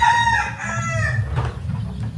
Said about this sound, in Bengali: আর এই সাইডে সবগুলো মুরগি ঠিকঠাকই আছে